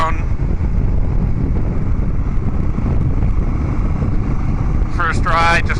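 A motorcycle cruising along a town road, with a steady engine drone and heavy wind rush throughout, and a brief voice near the end.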